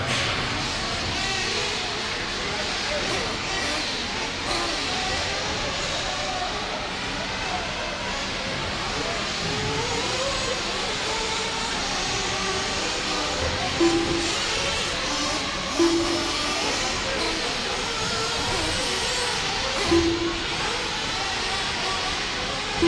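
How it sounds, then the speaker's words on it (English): Nitro-engined 1/8 scale RC truggies race around a track in a sportsman class, a dense, continuous buzzing drone of several small engines blending together at a distance, with an announcer's voice over the top. "2:30 left to go here in Sportsman Nitro Truggy."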